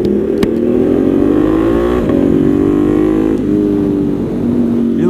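A motorcycle fitted with a new Termignoni race exhaust revs loud and close, a deep throaty roar that swells and settles in several blips, with no voices over it.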